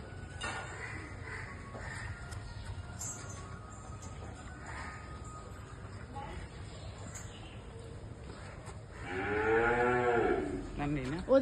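Cattle and a calf at a farm, with a loud, near moo rising near the end over a low, steady background of ambient farm noise and faint bird calls.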